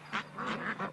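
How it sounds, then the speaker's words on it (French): Ducks quack several times in a quick, close run, fairly faint and with no talking. "Et oui, Jordan, c'est tout ou presque des canards."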